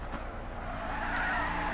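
An Audi R8 LMS race car in Gran Turismo 6 drives on, its engine a steady moderate drone that swells slightly toward the end, with a faint hint of tire noise and no talking.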